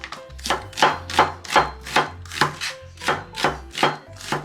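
A knife chops dried radish greens (siraegi) on a board in about eleven firm, evenly spaced strokes, each a close, crisp thud with no voices.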